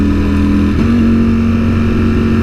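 A Ducati Streetfighter V4S motorcycle riding at speed, its engine a loud, steady drone with a slight pitch shift early on, held continuously under heavy wind rush.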